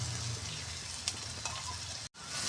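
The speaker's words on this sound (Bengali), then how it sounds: "ভালো করে মশলাটাকে কষিয়ে নেব" Spiced masala with chopped tomatoes frying in a pan for a spinach (palong shak) dish: a steady, soft, continuous sizzle with a few faint crackles, heard alone without talk.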